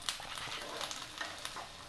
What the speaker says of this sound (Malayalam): ഇനി നമുക്ക് നന്നായിട്ടൊന്ന് ഇളക്കാം.